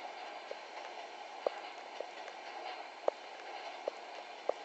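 A long FEC intermodal freight train rolls past in the Trainz 2006 simulator, heard as a faint steady rumble marked by soft rhythmic clicks of wheels over rail joints.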